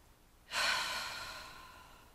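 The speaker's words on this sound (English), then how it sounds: "take a deep breath. Just a big deep breath and a sigh." A single deep breath drawn in and released as a long, soft sigh during a guided meditation, close and quiet, fading gradually with no talking.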